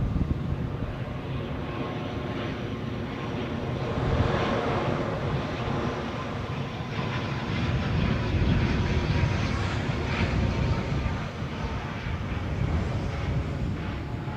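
An ATR turboprop aircraft passes at Edinburgh Airport with a sustained droning roar and faint propeller tones, swelling and easing in waves as it moves by.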